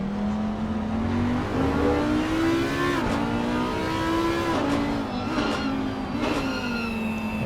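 Race cars on track at Circuit of the Americas, engines revving hard and climbing through gears with loud, sustained mid-pitched roar and shifts, close and continuous without speech.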